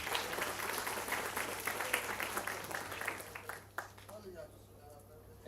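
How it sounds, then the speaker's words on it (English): An audience in a university hall applauds at a student induction program, a dense burst of clapping that thins and dies away after a few seconds, with a steady low hum underneath. "Please give a big round of applause."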